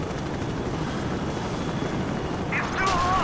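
A helicopter lands in the video game Call of Duty: Modern Warfare 2, its rotor and engine producing a steady, heavy drone under overlapping spoken voices, with a brief whining rise near the end.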